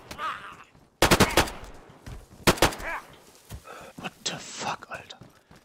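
Two sharp bursts of rapid automatic gunfire from the video game DayZ, separated by quiet, with a whispering voice and scattered smaller clicks between.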